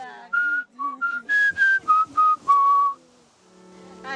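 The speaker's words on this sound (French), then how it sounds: "Je vais utiliser notre sifflement secret, celui qu'on utilise quand on est perdu" A secret family whistle signal used to call relatives when lost, blown in Papua as a series of short, sharp whistled notes at varied pitches, close and loud, ending in a pause.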